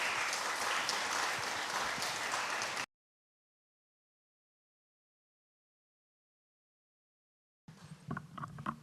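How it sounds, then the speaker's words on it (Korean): Steady, dense audience applause in a concert hall at an academic seminar on traditional Korean gasa song, lasting about three seconds before cutting to silence, then a short burst of room sound. "큰 박수 부탁드리겠습니다"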